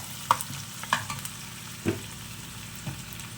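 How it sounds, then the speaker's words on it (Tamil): Small chopped onions sautéing in a pan for a prawn fry, with a soft steady sizzle broken by a few sharp clinks and scrapes of stirring, close by and fairly quiet. "ஆனியனை சேர்த்துக்கிட்டேன் இது கொஞ்சம் நல்லா வதங்கட்டும்"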